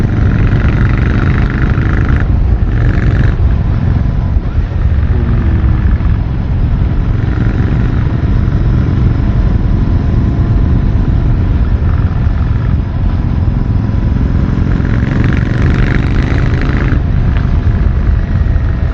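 A Royal Enfield Classic 650 motorcycle with twin exhausts, one each side, rumbles steadily with a deep exhaust drone, loud and continuous as if riding behind it, with slight swells in pitch.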